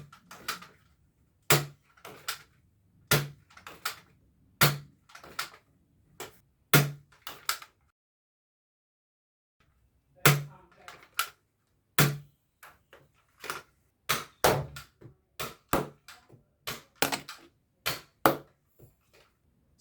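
A Nerf Fortnite SR hammer-action scoped revolver fires white Econ waffle-head darts, sharp close clicks and snaps in quick irregular bursts, a silent gap midway, then another rapid run of shots with no talk.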